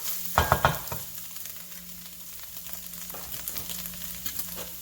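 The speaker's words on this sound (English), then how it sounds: "after it's been sauteed for about 5 minutes, you want to add the seasoning now" Pickled sour bamboo shoots sautéing in a pan, a steady low sizzle with a burst of louder stirring scrapes near the start and lighter clinks and stirs scattered afterward, no voices.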